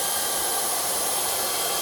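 A hot air welder tack-welds the end of a reinforced PVC pool liner strip with a steady, loud blowing roar like a hair dryer. The sound is continuous and even throughout, with no talk.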